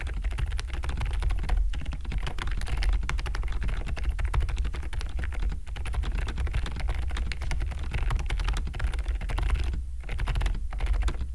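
Rapid, steady typing on a newly built mechanical keyboard during a typing speed test, dense keystrokes clattering close and loud for the whole stretch with only brief pauses and no talk.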